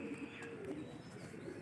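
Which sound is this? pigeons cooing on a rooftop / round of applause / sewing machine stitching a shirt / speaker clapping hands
pigeons cooing on a rooftop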